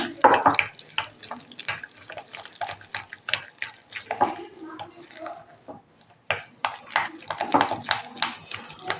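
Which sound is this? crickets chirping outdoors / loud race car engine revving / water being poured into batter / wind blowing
water being poured into batter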